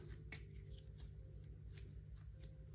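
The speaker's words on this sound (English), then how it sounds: "So I'm going to shuffle these cards," A deck of game cards for the First in Flight board game is shuffled by hand, giving a steady, close run of soft riffling and slapping card sounds with no talking.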